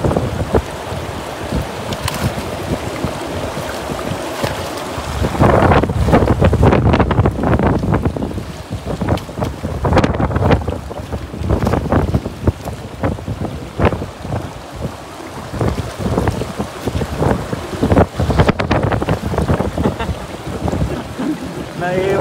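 Strong wind buffets a fishing boat out on the water, roaring and gusting loudly into the microphone with rough peaks and splashy bursts throughout, while a voice occasionally speaks beneath the noise.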